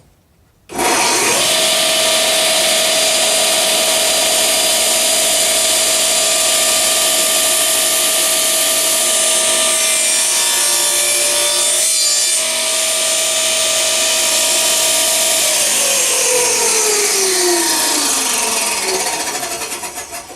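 Saw cutting the lip slot notch into a wooden muskie lure blank, a loud sustained whining cut that starts abruptly, holds steady for about fifteen seconds, then drops in pitch as the blade winds down.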